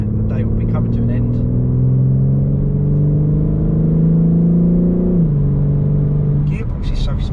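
A 2021 BMW M4 Competition G82 drives along with a loud, steady engine drone that rises slowly in pitch, then drops smoothly at a gear change before settling again. Faint ticking appears near the start and end.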